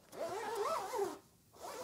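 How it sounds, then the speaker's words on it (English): The zipper on a black fabric headphone hard case is pulled smoothly, a close, quiet rasping run followed by a brief pause and a shorter second pull. "That is one smooth zipper."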